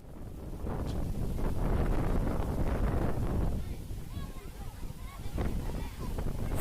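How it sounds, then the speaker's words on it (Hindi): Strong wind at Eco Park in Kolkata, India roars and buffets the microphone in heavy gusts, easing slightly midway before surging again. "तेज़ हवाएं चलने लग गई थी।"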